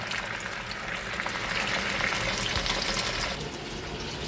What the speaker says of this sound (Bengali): দেখো মাছটা ভাজা হচ্ছে